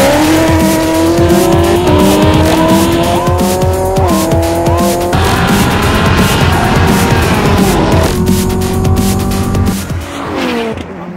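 Mitsubishi Lancer Evolution VIII and Chevrolet Camaro ZL1 drag racing, loud engines roaring and rising through gears with tire squeal, continuous and close throughout.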